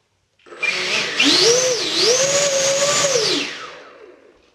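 An empty-battery 80mm electric ducted fan motor in an E-Flite F-4D Phantom II model jet spins up to a loud, high whine, shifts pitch a couple of times while held, then winds down.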